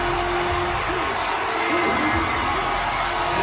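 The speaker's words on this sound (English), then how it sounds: "And now the crowd is going to get loud at Neyland." Crowd noise at Neyland Stadium during the 2023 Georgia vs Tennessee football game, a dense, steady roar from a huge stadium crowd that holds without a break, with faint shouts poking through.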